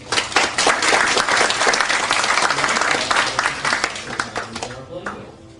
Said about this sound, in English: give these fine people a much-deserved round of applause